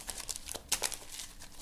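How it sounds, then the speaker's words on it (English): Playing cards shuffled by hand during a tabletop card game setup, a quiet, rapid papery riffle of crisp clicks and rustles with a few louder bursts, close and alone with no talking. "So I have to shuffle the deck"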